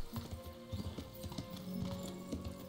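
Hooves of a horse clip-clop in the medieval video game Kingdom Come: Deliverance, a steady uneven rhythm of close, moderately loud thuds under faint background noise; no talking is heard.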